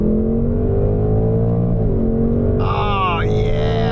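A 2024 Mustang GT engine pulling at full throttle in second gear, a loud, steady, rising drone that climbs in pitch throughout, with a brief whine near the end.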